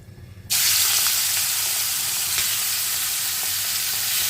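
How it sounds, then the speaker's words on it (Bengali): Washed, drained prawns hit hot oil in a pan with a sudden loud sizzle that starts just after half a second and holds as a dense, steady spitting hiss to the end. "এখানে চিংড়ি মাছটা ভালো করে ধুয়ে জলটা ঝরিয়ে রাখা আছে আমি কিন্তু হালকা করে ভেজে নেব"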